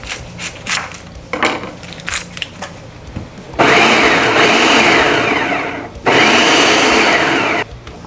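Food processor chopping onion, starting with some clattering handling, then two loud bursts of whirring blade noise, the second after a short pause.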